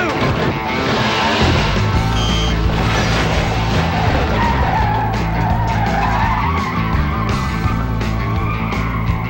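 Car tires spin and skid with a loud, sustained screech over a revving engine, while voices talk over the noise.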